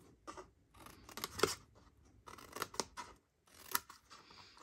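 Scissors snipping through paper while assembling a pumpkin spice treat box, a series of crisp close cuts in short bursts separated by brief pauses.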